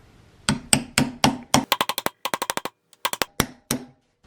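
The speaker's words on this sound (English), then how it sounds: "The manual says to use a 19mm socket to hammer this one in." Repeated hammer blows drive a bearing into a 1990 Saab 900 steering rack with a 19mm socket, about fifteen sharp metallic strikes, first slow and heavy, then quick bursts of lighter taps, close and loud with no talking.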